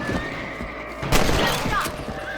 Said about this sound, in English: Good shot.